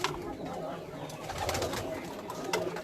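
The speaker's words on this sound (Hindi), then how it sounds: "ये कमांडो टाइप जिनको हीरा लाल कबूतर भी कहा जाता है" Heera Lal commando-type pigeons cooing at a farm house, soft throaty coos mixed with rustling and background noise, close by, with faint voices around.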